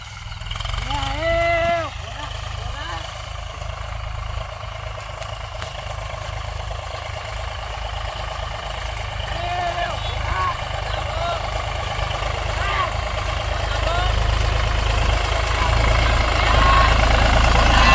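A tractor's diesel engine idles with a steady low chugging rumble that grows slightly louder, while voices speak briefly near the start.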